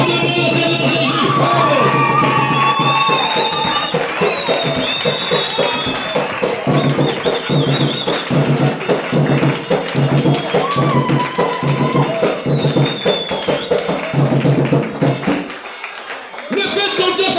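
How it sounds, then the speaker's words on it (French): A church congregation at a Sunday service applauding and cheering for Jesus, a continuous dense mass of clapping and voices, loud and close throughout, then dropping away near the end. "Acclamons le Seigneur Jésus."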